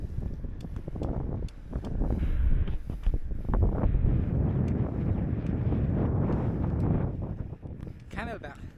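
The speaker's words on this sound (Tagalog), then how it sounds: "Ayan, medyo lumalakas na yung hangin." Wind roars and buffets across the microphone while cycling, a steady rushing noise over the whole stretch with a few soft voice sounds mixed in.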